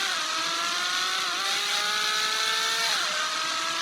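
A police car driven in the mobile game Indian Bikes Driving 3D gives off a steady, loud engine drone whose pitch climbs and dips as it revs and shifts, with no voices over it.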